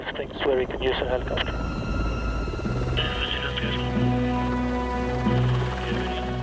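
A rescue helicopter's engine and rotors drone steadily over Arctic fjords in Norway, with a voice speaking over the start before a low mechanical hum takes over.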